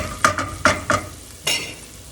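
Broccoli and oregano are stirred through a hot pan for pasta: four quick scraping stirs over a soft sizzle, then one longer push near the end, all close and without talk.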